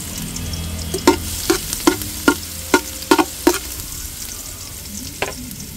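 Garlic sautés in a cooking pot, with a steady sizzle under a run of sharp scraping clinks from a spoon stirring against the pot, several in quick succession, then one more after a pause.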